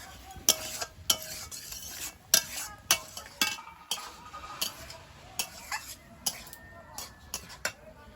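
Shrimp and green peas cooking in gravy in a wok, stirred with a utensil that scrapes and taps the pan in regular sharp clicks about every half second over a soft simmering sizzle.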